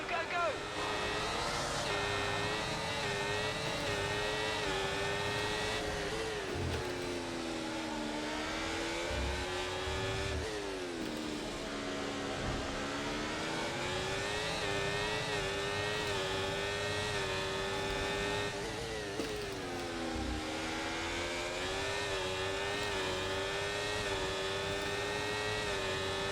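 Race car engines in a Singapore racing game scream steadily at high revs at the start, pitch rising and dropping through repeated gear changes, loud and continuous, with a voice talking underneath.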